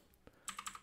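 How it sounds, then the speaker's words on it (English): Computer keyboard arrow keys tap in a quick series of five or six close, sharp clicks after a brief pause and a single softer knock. "If you use your left and right arrow keys"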